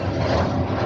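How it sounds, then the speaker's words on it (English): Italian Frecce Tricolori MB339 jet trainer roaring through an air show display pass, a steady loud broadband engine rush sustained without a break, no voices over it. "is proving the technical features of our MB339, an aircraft able to sustain a prolonged upside-down flight"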